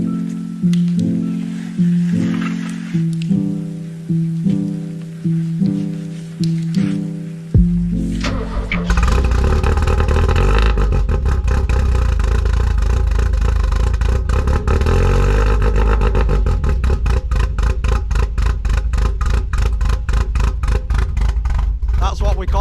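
A lowered Porsche 924 on 14-inch standard wheels, low on compression with a harsh exhaust, drives close by: a rhythmic idle and chug at first, then a loud, steady engine drone as it pulls away, with a voice talking over it.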